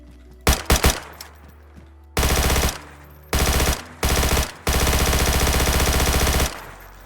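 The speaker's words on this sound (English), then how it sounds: "one of the last weapons I'm going to show off is a P90 that he's added in with full custom animations" A P90 submachine gun in DayZ fires in a few quick separate shots, then in long rapid automatic bursts. The gunfire is loud and close with short gaps between the strings.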